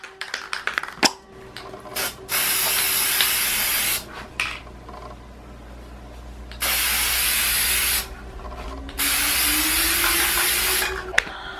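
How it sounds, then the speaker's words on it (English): Spray paint or primer hisses in three long, loud, steady bursts onto black faux barbed wire for a costume head piece, with brief rustles and taps between bursts and no talking. "using a spray paint or primer to spray the black wire first"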